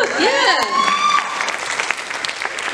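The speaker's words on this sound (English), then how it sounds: "clap it up" A crowd of eighth-grade students at a school event claps and cheers, with whoops and shouted voices over brisk applause, loud and close, tapering slightly toward the end.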